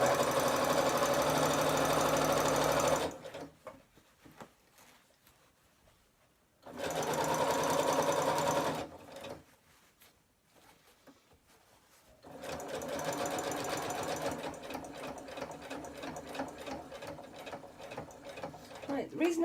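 Domestic sewing machine, a Butterick EB 6100, stitches along the back of a fabric bag in three loud bursts with quiet pauses between them. Soft handling noises fill the gaps.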